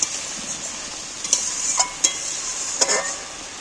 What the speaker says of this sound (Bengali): এইবার আমি ভালো করে কষিয়ে নেবো আলুটাকে মশলাটাকে